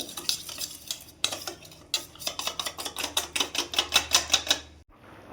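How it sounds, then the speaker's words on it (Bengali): Cornflour and a little water being stirred briskly in a bowl for a spicy chilli chicken gravy, a rapid run of clinking, scraping spoon strokes against the bowl, close and alone after a brief pause. "এরই মধ্যে অল্প একটু জল দিয়ে দেবো ভালো করে গুলে নেবো"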